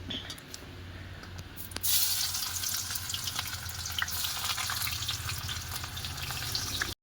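Chopped onion dropped into hot oil for a rural Bengali country chicken curry, bursting into a loud, close, continuous sizzle that stays strong for several seconds before cutting off.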